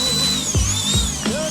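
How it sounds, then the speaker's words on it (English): A rechargeable electric compressed air duster blows in short hissing bursts, whining as its motor spins up and down three times, close by. "Rechargeable compressed air."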